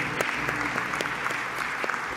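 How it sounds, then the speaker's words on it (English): An audience at a panel event on monitoring, learning and evaluation claps steadily as a speaker enters, a dense, even patter of many hands at moderate distance, with no one talking over it. "Let's give her a big round of applause as she comes in"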